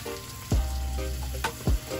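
Butter sizzles and crackles steadily in a hot pan, with a couple of low scraping stirs from a rubber spatula breaking through the frying hiss.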